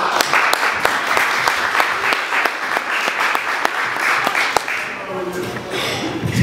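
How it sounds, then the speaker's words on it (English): Audience applause for a rapper introduced on stage at an anti-bullying music event, a loud dense burst of many hands clapping that fades out toward the end. "Give him a round of applause, guys."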